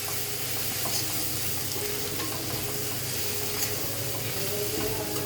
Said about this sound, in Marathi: अशा प्रकारे आपण आता हा मॅगी मसाला सर्व भाज्यांमध्ये मिक्स करून घेणार आहोत.